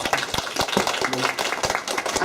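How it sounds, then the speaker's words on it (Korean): Congregation clapping inside a church, a dense patter of hand claps running steadily throughout at moderate loudness, with some voices mixed in. "박수 한번 하냐?"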